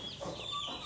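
A hen gives a brief burst of soft, close clucking near her small chicks in a farmyard, with no voices present.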